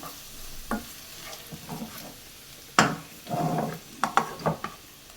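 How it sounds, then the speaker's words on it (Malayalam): Onions and potatoes for a Spanish omelette sauté in a pan with a soft, steady sizzle. Intermittent scraping stirs and light utensil taps on the pan sound close by, with no voices. "ഉള്ളി ഉരുളക്കിഴങ്ങൊക്കെ വഴണ്ട് വന്നിട്ടുണ്ട്"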